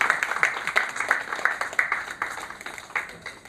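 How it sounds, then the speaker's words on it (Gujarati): An audience at a health awareness seminar claps to welcome a guest, a dense patter of applause that peaks early and slowly thins out. "આપણે જોરદાર તાળીઓથી એમને આવકારીએ"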